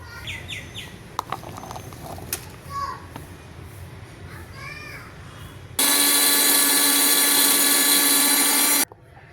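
A mixer grinder whirs loudly and steadily for about three seconds as it blends beetroot, carrot and coriander leaves into juice, starting and stopping abruptly; before it, birds chirp and children's voices carry faintly outdoors.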